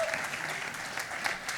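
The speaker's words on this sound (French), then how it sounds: "Sans plus attendre, donnez une bonne main d'applaudissements pour Stéphane Côté." Audience applause for Stéphane Côté, a brief steady burst of many hands clapping at moderate volume, with no voices over it.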